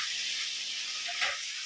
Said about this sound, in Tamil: இந்த வெங்காயம், தக்காளி, கத்திரிக்காய் 3 சேர்ந்து நல்லா வதங்கி வரட்டுங்க